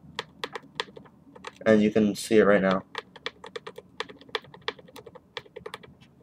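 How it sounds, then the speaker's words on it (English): Small rapid clicks and scratches from a hamster gnawing on a tunnel of rings, a steady, fine, close ticking that runs throughout, briefly covered by a person speaking in the middle. "he is chewing at the tunnel right now"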